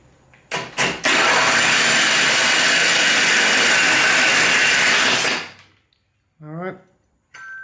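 A hole saw bores up through a workpiece from underneath, a short blip and then a loud, steady whine for about four seconds that spins down, followed by a brief spoken remark.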